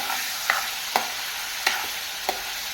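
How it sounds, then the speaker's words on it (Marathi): Chicken pieces with salt sauté in hot oil in a pan, giving a steady close sizzle broken by four sharp, evenly spaced spatula scrapes as the mixture is stirred. "सर्व मिश्रण आता आपण तेलात चांगलं परतून घेऊया"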